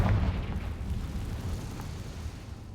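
A Confringo fire spell bursting in the Hogwarts Legacy game, a short explosive boom at the start followed by a rumbling low-end tail that rolls on steadily and fairly loud throughout.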